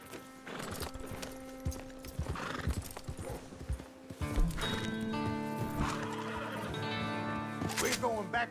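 Horses in the video game Red Dead Online gallop with rapid clip-clopping hooves and neigh loudly at close range, while a player talks over the steady hoofbeats.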